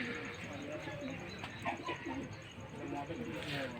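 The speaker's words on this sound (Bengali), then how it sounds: "বর্তমানে ডিম নিয়ে বসে আছে নাজরা কালদম" Kaldom pigeons at a breeder's loft, one female sitting on eggs, give soft low coos through a busy background of rustling and noise, with a voice talking over them.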